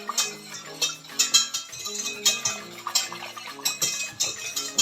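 White sauce for kohlrabi being whisked in a pot over a gas flame, a steady run of quick metallic scraping and clinking strokes against the pot, close and fairly loud, with no talk.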